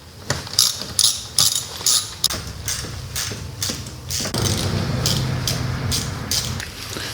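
A ratchet works loose the bolts on the oil filter of a Sea-Doo Spark's Rotax 900 ACE engine, giving several close bursts of quick clicking with short pauses between them, then a steadier mechanical rattle.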